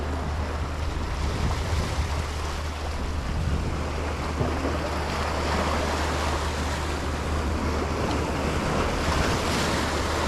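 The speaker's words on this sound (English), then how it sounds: "Waves aren't as big." Ocean surf rolls in a steady, continuous wash against strong wind buffeting the microphone, with a low rumble underneath and no voices.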